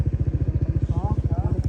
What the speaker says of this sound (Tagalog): Kawawa yung motor.